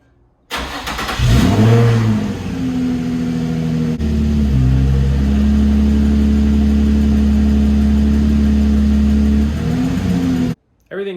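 A Nissan 350Z engine runs after a differential replacement, starting up, revving briefly, then settling into a steady loud idle with a low drone before cutting off near the end.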